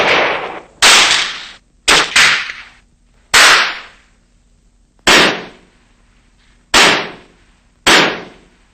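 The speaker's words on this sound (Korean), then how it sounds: "3일간의 연습사격이 시작되자 태릉골에 총성이 울려 퍼졌습니다" Seven sharp, loud rifle shots crack out one at a time at irregular intervals of about a second, each with a short echoing tail, during practice shooting at a 1978 world shooting championship range in Seoul.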